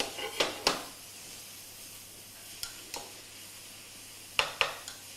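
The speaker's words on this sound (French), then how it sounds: "Je continue de mélanger." Food being stirred in a pot for duck marbré, with a few sharp scraping and clinking strokes of a utensil against the pot, spaced irregularly over a faint steady hum.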